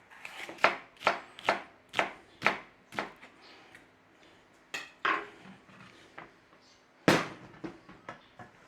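A knife dices a yellow bell pepper on a cutting board, about a dozen crisp chops in a loose rhythm, close and clear with short pauses between strokes.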